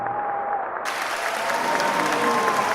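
Audience applause during a roleplay, steady dense clapping from a crowd that swells slightly fuller partway through and keeps going, with no voices over it.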